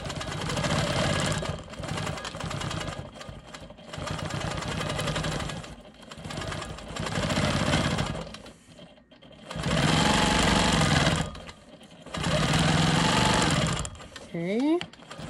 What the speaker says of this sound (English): I'm going to quilt back over here and finish this line up